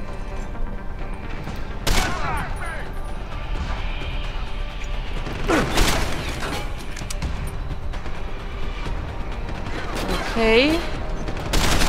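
Gunshots fired from behind cover in the game Deus Ex: Human Revolution, a few sharp bursts with clattering mechanical sounds and crashes over a steady background rumble, with a brief spoken word.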